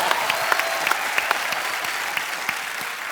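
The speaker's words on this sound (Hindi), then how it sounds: "जोरदार तालियां।" A studio audience at a Hindi comedy talk show gives loud, close applause. The clapping is dense and steady, with sharp claps popping out of the mass throughout.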